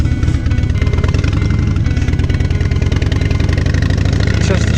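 A Harley-Davidson Street Glide motorcycle engine runs steadily and loudly throughout, a deep continuous rumble on a ride in to work, with no clear speech over it.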